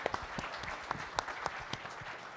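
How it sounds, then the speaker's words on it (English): A round of applause for a communications team at an auto theft summit, quiet and somewhat distant, with individual claps standing out in an irregular, moderate-paced patter. "I think they're worthy of a round of applause for doing this."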